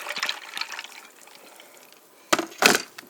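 Water poured over ice cubes into a glass with orange Gatorade: soft intermittent trickling and clinks at first, then two louder splashing gushes near the end, close up and with no talk.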